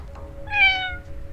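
A single cat meow from the video game 1954 Alcatraz, one clear, drawn-out call heard close and alone over a soft background hum.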